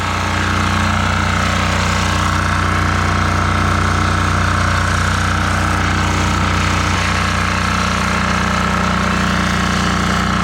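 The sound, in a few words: diesel generator engine running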